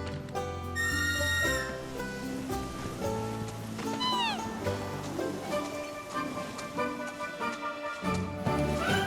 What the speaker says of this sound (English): Remember now, just give your whistle a blow to ride your chocobo.